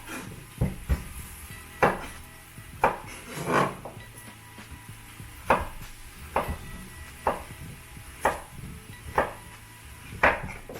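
A knife chops zucchini on a board in about a dozen evenly spaced, crisp thuds, close up, with no talk.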